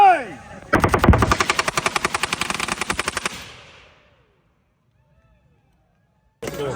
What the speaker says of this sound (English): We're gonna shoot these scarecrows.